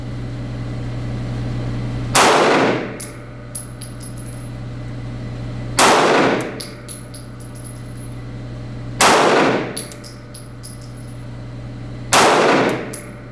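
A Smith & Wesson M&P 2.0 9mm pistol fires four loud, sharp shots at a shooting range, evenly spaced about three seconds apart in slow fire, each followed by a brief metallic ring and clatter.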